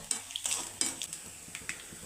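Coconut pieces fry quietly in ghee for a chana dal payasam, a soft sizzle broken by brief, rhythmic taps of a spoon stirring against the pan.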